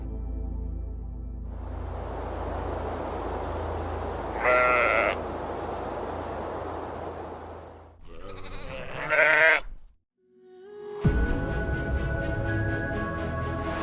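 Sheep bleat in a lush green meadow on a treeless seabird island, with several distinct close calls over a breezy outdoor background, followed by more bleats and a final rising call.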